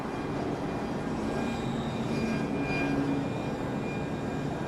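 Airplane landing under emergency at Charlotte Douglas International Airport on a windy day, a steady, loud broadband engine roar with a faint rising whine, heard from a distance without voices.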